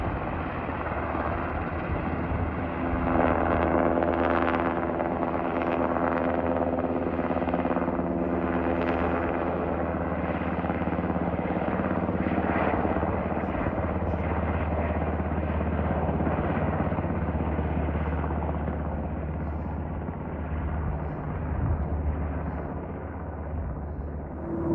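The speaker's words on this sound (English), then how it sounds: "there are helicopters waiting." Helicopters wait near a wildfire outside Salmon, Idaho, their engines and rotors making a loud, steady, unbroken drone that holds at the same level throughout.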